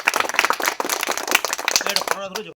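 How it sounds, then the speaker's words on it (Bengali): Audience applause at a charity gathering in Kharagpur, a dense burst of many hands clapping close by that swells and then breaks off abruptly, with voices mixed in. "একবার জোরদার হাততালি দেওয়ার জন্য"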